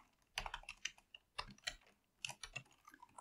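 Quick bursts of typing on a computer keyboard while filling in a form field, the keys clattering in short uneven clusters, close and fairly quiet.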